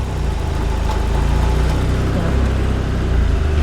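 A Fiat Uno Turbo engine running steadily after a wiring repair, a continuous low idle-like hum throughout, fairly loud and close with no talk over it.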